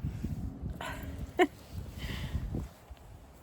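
Daisy, a fourteen-and-a-half-year-old dog on a horse field, gives a few short whimpers and yips while waiting for her ball to be thrown, including one sharper high cry midway, with faint background movement and no clear talk.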